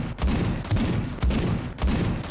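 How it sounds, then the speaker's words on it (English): Shotgun blasts in Space Hulk: Deathwing, four loud booming shots evenly spaced about half a second apart, each with a short rumbling tail, close and dominant. "I know I'm sniping with a shotgun"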